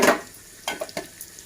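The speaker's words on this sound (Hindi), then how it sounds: "पहले इसमें मैं हरी मिर्चें डालूंगी, ये स्लो फ्राई होंगी।" Green chillies dropped into heated oil for a tempering, giving a burst of sizzle at first and then a few soft crackles and stirring clicks at close range.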